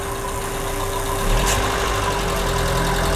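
A car engine is revved from idle while the air-conditioning compressor is checked for low refrigerant; a steady mechanical drone swells into a louder, sustained rev partway through, close up and with no talk.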